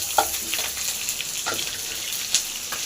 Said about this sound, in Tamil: பச்சை மிளகாய் இஞ்சி இது போடலாம் நல்ல ஃப்ரை நல்ல ஃப்ரை ஆகும்